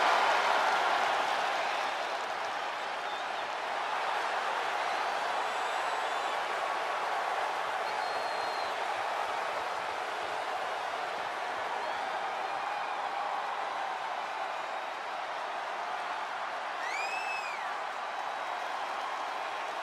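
A large wrestling arena crowd at a WWE Fastlane event, a steady wash of distant clapping and cheering that swells slightly at the start and holds throughout.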